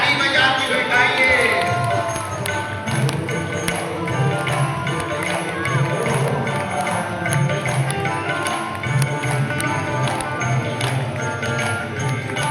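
An audience clapping along at a Bhagavat Katha religious discourse, rhythmic, steady hand claps repeating throughout, mixed with music and voices.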